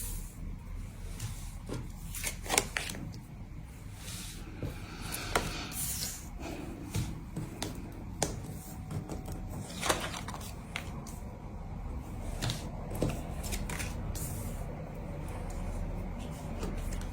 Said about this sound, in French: Je vais poser les cartes et je vais les interpréter après.